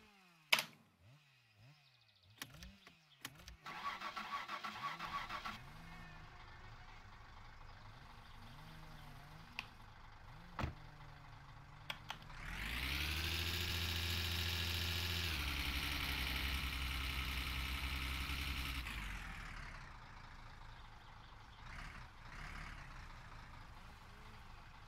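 A car engine in the game My Summer Car clatters and cranks, then roars into a loud, steady idle with a rough, droning hum before it eases down toward the end.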